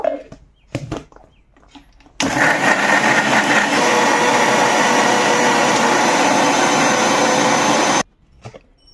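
A kitchen mixer grinder whirs steadily for about six seconds as it grinds cooled spice masala into a paste for paneer rezala. The loud, even motor drone starts and stops abruptly, with brief handling clatter before and after.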